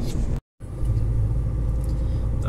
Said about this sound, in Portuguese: Tamo aqui acelerando o Jeep pelo lado esquerdo aí, ó.